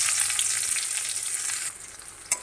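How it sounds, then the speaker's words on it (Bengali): Chopped onions fry in a pan, a bright steady sizzle close by that drops quieter toward the end, followed by a brief clink, with no talking. "পেঁয়াজগুলো সুন্দর করে হালকা হালকা ভেজে নেব"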